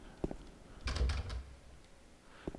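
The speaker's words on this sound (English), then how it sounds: "door shake kind of reverberates a bit more, and it echoes a bit longer when you open a door" A door rattles and shakes in the Silent Hill 2 video game, a short burst of knocking thuds with a lingering echo, between quieter clicks before and after.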